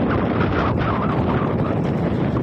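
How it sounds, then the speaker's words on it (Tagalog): Steady, loud wind rushing and buffeting the microphone outdoors at the seaside, a continuous broadband roar with no voices. "Mahangin sa labas, guys."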